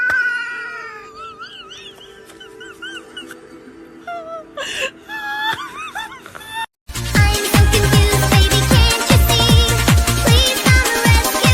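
A cat gives drawn-out wavering meows and caterwauls, close and loud, first alone and then over a louder busy background with sharp transient noises.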